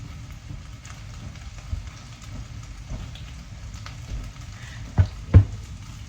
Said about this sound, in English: I'm gonna let it fry now